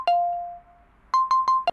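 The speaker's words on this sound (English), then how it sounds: "that's my phone ringing" A phone ringtone chimes inside a truck cab: a long tone, a pause, then four quick bright beeps in a steady run, clear and close.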